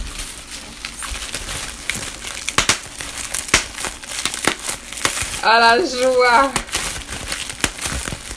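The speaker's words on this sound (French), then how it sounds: "Est-ce que c'est du papier bulle? J'adore le papier bulle." Bubble wrap packaging crinkles and crackles in quick, sharp bursts, while a person talks and exclaims happily over the noise.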